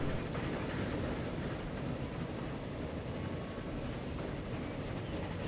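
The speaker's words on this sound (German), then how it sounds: "Da quält sich der nächste Zug hoch." A train in the video game Transport Fever 2 labours up a hill, giving a steady, dense rumbling rail noise that stays even throughout with no talking.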